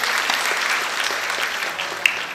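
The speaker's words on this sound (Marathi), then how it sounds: "त्याच्यासाठी एकदा टाळ्या वाजवा जोरात" Audience applause for a young pakhawaj player at a kirtan in Shrigonda, a steady dense clapping from a crowd that carries on throughout.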